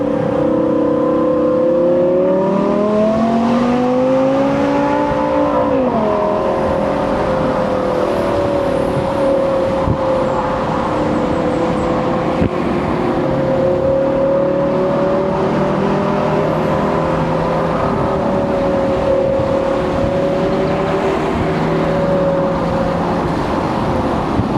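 A sports car engine runs close by in a steady, loud, throaty drone, its pitch rising and dipping through a brief rev early on before settling into an even idle-like hum.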